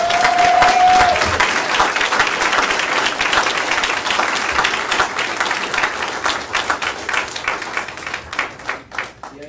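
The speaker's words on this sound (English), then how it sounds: "Give him a round of applause, please." A council chamber audience applauds a Citizen of the Month honoree at a city council meeting, dense sustained clapping that gradually thins into scattered individual claps before fading, with a brief tone at the start.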